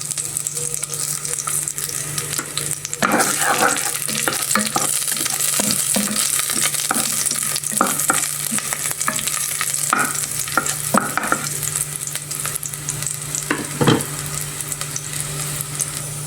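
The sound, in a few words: garlic frying in a pan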